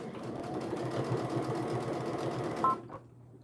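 A sewing machine runs steadily close by, stitching fabric down in one continuous pass, then stops abruptly near the end, leaving a faint low hum.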